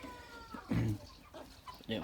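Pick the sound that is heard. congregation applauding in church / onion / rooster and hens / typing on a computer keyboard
rooster and hens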